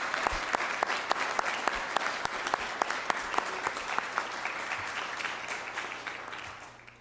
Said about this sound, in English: So one applause for the family and friends.